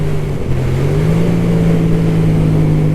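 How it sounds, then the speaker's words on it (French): A Yamaha MT-07 motorcycle engine braking on a descent: a loud, steady engine drone with a low, slowly rising tone, continuous and close, under wind noise. "Un peu de frein à moteur quand même."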